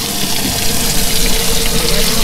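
Water gushes steadily out of a bass boat's live well drain, a continuous close splashing pour with no pauses.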